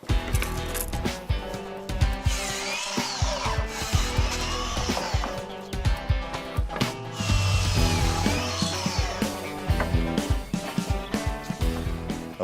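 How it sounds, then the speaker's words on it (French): Power tool cutting ipe hardwood boards for a bench frame: a loud, continuous whine and grind with shifting pitch, running steadily throughout with brief dips as the cut progresses. "par la découpe des bois pour fabriquer la structure du banc"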